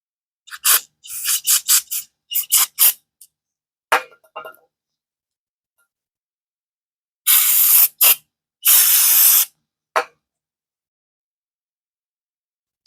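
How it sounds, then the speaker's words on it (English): Carb cleaner sprayed in short bursts into caked, fuel-clogged engine parts: a quick series of sharp hissing spurts, a pause, then two longer loud blasts and a final brief squirt. "Spray all this out."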